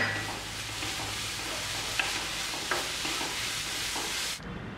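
Coconut burfi mixture stirred in a pan, a soft continuous scraping and faint sizzle with a few light clicks of the spoon, fairly quiet and close, ending abruptly.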